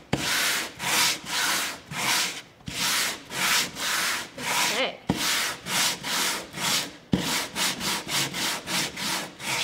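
Hand sanding a painted wooden board with sandpaper: loud, close rhythmic rasping strokes back and forth, about two strokes per second, continuing without talk.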